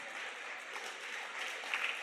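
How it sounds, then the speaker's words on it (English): An audience at an Orange Lutheran High School gathering applauds: a faint, distant, even wash of clapping, brief and unbroken. "I give him a round of applause."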